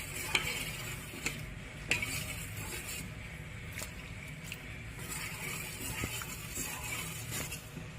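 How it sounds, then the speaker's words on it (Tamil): Milk being stirred into a pot of payasam, a sweet milk pudding, with a spoon scraping and clinking against the pot in a few sharp taps over a soft bubbling, simmering background. "இதில் பால் மிக்ஸ் பண்ணி நல்லா மிக்ஸ் பண்ணணும்."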